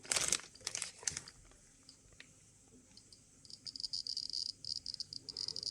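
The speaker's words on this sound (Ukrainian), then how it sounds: "От чуєте клацання." Geiger counter dosimeter with an SBM-20 tube clicking near a gamma source, a B8 test source, with rapid, crinkly ticks in bursts near the start, a quieter stretch while the source is shielded by metal, then dense, louder clicking again.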